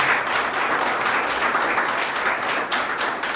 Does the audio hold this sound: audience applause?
yes